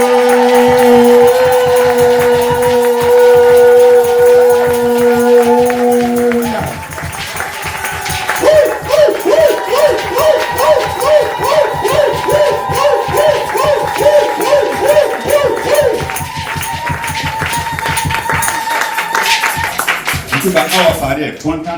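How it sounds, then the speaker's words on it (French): A church congregation in Ouagadougou, Burkina Faso, acclaims with cheers and clapping. Strong sustained voices come first, then a long stretch of rhythmic, repeated claps and calls before the sound fades out. "On va acclamer notre Père."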